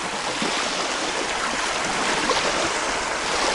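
Gentle waves roll up a sandy Lake Michigan beach, a steady hiss of surf washing in with soft swells, continuous and fairly close, mixed with light wind and no voices.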